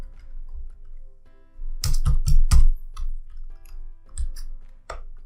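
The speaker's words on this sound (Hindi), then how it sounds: "कीबोर्ड की साउंड डिस्ट्रैक्ट करेगी थोड़ा सा।" Bursts of keyboard typing, quick clusters of key clicks with short pauses between them, close and fairly clear over a quiet background.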